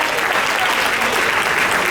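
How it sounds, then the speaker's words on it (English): A crowd at a senator's re-election campaign event breaks into loud, dense applause, continuous clapping close and full throughout with no talk above it. "Give a round of applause."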